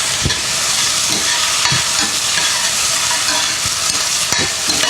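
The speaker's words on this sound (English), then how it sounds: "Then we're going to just stir these up until the tomato starts to get soft." Onions, tomato and garlic sizzle in a hot pan while being stirred, a loud, close, continuous frying hiss broken by occasional spatula scrapes and knocks, with no talking.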